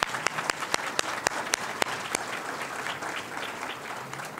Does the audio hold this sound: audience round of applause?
yes